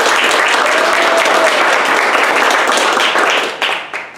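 Loud, dense applause from an audience at a Startup Weekend Iowa City event honoring the program's mentors, sustained clapping that thins out and fades near the end.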